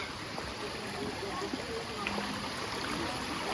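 A mountain river flows steadily with rushing, splashing water close by during a hike crossing toward the summit crater on Gunung Halimun Salak, Bogor; a constant broadband wash with faint voices underneath.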